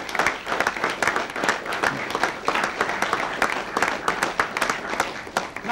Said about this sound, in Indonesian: sekali lagi kita tepuk tangan untuk